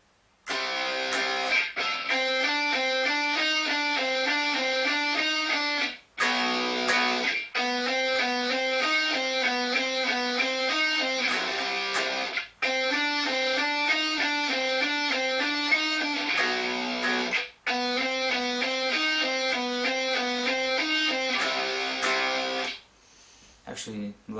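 Electric guitar playing a song intro at a slowed tempo, repeating a clean picked chord pattern in phrases separated by brief pauses, loud and alone.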